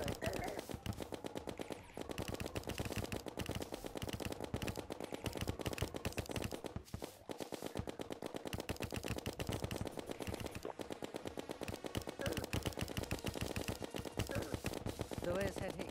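Rapid weapon fire in Terraria during a boss fight against a foe with a head and hands: dense, continuous volleys of clipped shots at steady loudness for the whole stretch, crowded together with other game sounds.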